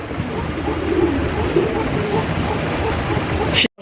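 Racing pigeons coo softly and repeatedly amid a steady background murmur and rustling, the sound cutting off abruptly near the end.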